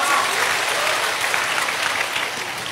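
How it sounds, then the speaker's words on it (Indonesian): An audience claps for Mas Noval, a first-year high school student, at an Islamic sharing-time talk. The applause is dense and sustained and stays fairly even through its short span. "Tepuk tangan dong buat Mas Noval"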